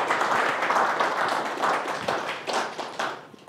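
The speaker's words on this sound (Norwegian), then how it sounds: "Ja, dere klappa, det var bra." An audience applauding at a church gathering, close and fairly loud, with dense clapping that keeps steady before gradually thinning out toward the end.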